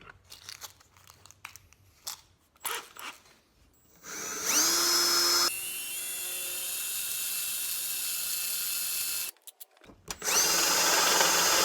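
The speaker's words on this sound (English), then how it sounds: "I'm going to drill a hole in the center of this so that we can fit it over that rod for the caulking gun" A power drill bores a hole through the center of an old brake pad for a DIY brake caliper tool. It is a close, steady, high-pitched whine that runs in one long burst, stops briefly, and then starts again.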